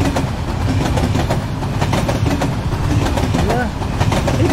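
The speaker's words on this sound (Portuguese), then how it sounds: "Tem um trem, olha lá o trem." A passing train in the Nibble: Pizza Delivery game gives a loud, continuous rumble with rhythmic clacking of wheels, heard close and steady throughout.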